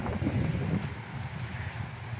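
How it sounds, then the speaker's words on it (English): Steady outdoor wind rushes and buffets against the microphone in a continuous, fairly loud broadband roar, with no one speaking. "the wind is picking up again."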